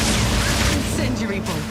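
Permafrost bolts fire in Path of Exile 2 combat as a dense stream of crackling bursts and booming impacts. Broadband blasts stack up over constant low rumble, with a loud, busy mix throughout.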